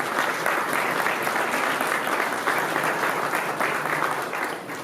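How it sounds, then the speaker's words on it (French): Steady applause from an award ceremony audience as a chef receives a Gault & Millau naturalness trophy, a dense, even wash of clapping that continues without a break. "Applaudissements"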